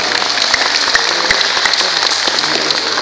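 An indoor audience at an alumni gathering breaks into sustained, dense clapping, loud and even throughout with a few sharper individual claps standing out.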